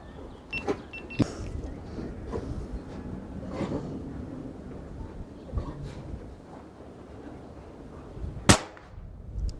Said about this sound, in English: That's about a 50-meter shot there.